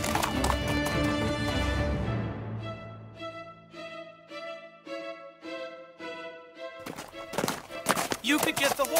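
A cartoon horse gives a long ringing whinny, then hooves clip-clop in a steady, brisk rhythm before a burst of clattering, noisy scuffling at the end, all loud and close.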